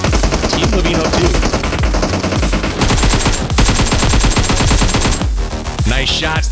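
Rapid automatic gunfire bursts from a PUBG Mobile match at a global esports tournament, dense and loud throughout, layered over music and game sounds with some talk underneath.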